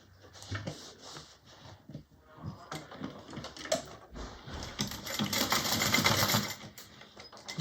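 A sewing machine bastes fabric for a mini bowler bag, starting with short bursts of clattery stitching and building into a longer, denser run, close by and moderately quiet.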